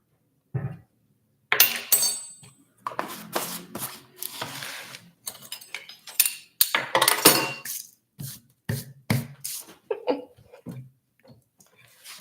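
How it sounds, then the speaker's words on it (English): Dry ingredients for vegetable pajeon batter, including flour, cornstarch, baking powder and salt, whisked in a bowl in uneven bursts of rapid scraping and tapping, with short pauses between strokes. "For our dry ingredients, I'm just whisking them up so that they're all mixed"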